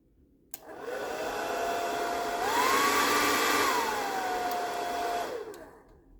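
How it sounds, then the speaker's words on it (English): A hotel-room hair dryer whirs steadily for about five seconds, its pitch rising briefly to a higher setting midway, then dropping back before it switches off. "Quick look at the hairdryer."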